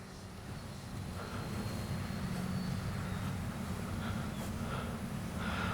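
A Freewing T-33 80mm RC jet with its flaps down comes in to land over a field, giving a steady, distant-sounding electric ducted-fan whine and rush that stays faint and even.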